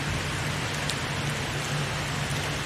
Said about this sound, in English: loving the rain